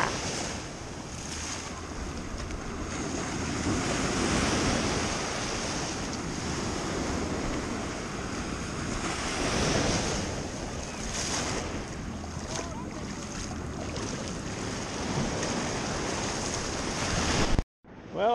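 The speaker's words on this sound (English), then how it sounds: "Big old waves crashing on the beach right where I want to be." Big waves crash repeatedly onto a beach, a loud continuous surf wash with swelling surges and wind buffeting the microphone throughout.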